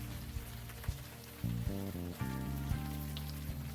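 Rain falls steadily in Unavowed as a soft, even patter beneath a low, droning tonal score with occasional sharper knocks and shifting chords.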